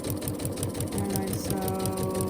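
A sewing machine stitches straight through the quarter-inch seam allowance of a foundation paper-pieced quilt block, running as a steady, close, fast chatter of needle strokes with no talk over it.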